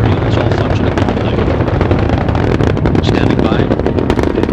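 Space Shuttle Columbia's three main engines roar during the STS-109 launch, a loud, dense, crackling rumble that holds steady throughout.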